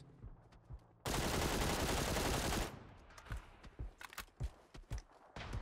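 A long, loud burst of gunfire in the battle royale video game PUBG, a dense continuous volley lasting over a second, followed by scattered sharp impacts and footstep-like thuds.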